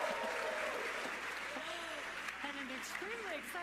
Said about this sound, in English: And an extremely excited crowd here in Hawthorne.